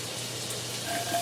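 Garlic sizzles softly in butter in a pan over low heat, a steady faint frying hiss with no voices.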